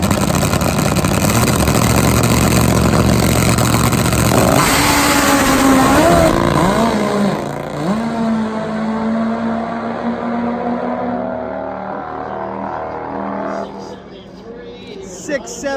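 A top fuel nitro motorcycle engine in a race shop blares at a loud, harsh roar, then drops into a rough, uneven idle with pitch wavering before trailing off near the end.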